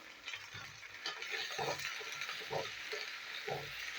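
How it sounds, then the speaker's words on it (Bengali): Okra frying with turmeric in a pan gives a steady hiss of hot oil, broken by a few soft bursts of stirring or spatter at a close, moderate level. "তো ঢ্যাঁড়সটা আমি এখন ভেজে নিই।"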